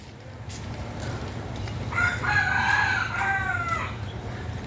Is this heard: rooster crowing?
yes